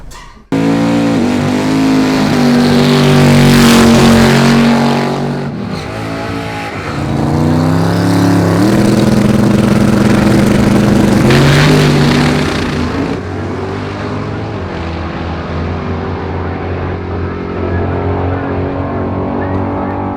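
A drag race car engine revs hard and loud, climbing and holding high pitch in long surging pulls with brief dips, then settles into a rougher, lower idle toward the end.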